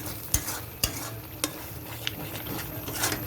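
A spatula stirs a fried masala for butor dal (Bengal gram) through hot oil in a pan. Several sharp knocks and scrapes sound over a constant close sizzle.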